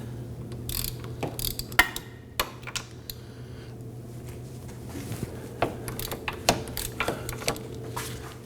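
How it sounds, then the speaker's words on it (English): A ratchet turning a 17mm socket to loosen wheel hub bolts on a 2015-2024 Nissan Murano, giving sharp, irregular clicking pawl bursts up close, with short pauses between strokes. "Using our 17mm socket and our ratchet, I want to go ahead and loosen these."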